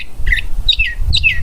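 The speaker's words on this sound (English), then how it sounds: "This is a phoenix-tailed green barrero, and its voice is very crisp." A phoenix-tailed green barrero gives crisp, bright chirps, three short close calls in quick succession, each a quick downward-sliding note, heard alone without talking.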